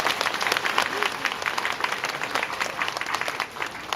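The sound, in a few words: audience applause for the Yushan climbers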